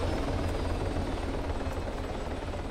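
A helicopter in the video game ArmA 3 drones steadily with a loud, continuous rotor and engine roar, close and unbroken, with no talking.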